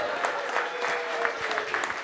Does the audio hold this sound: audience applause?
yes